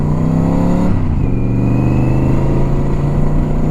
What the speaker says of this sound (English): I had to rev it out a little bit more